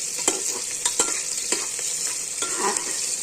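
Onions frying in ghee in a pan give a steady close sizzle, broken by the light scrape and tap of stirring every half second or so, with no talking.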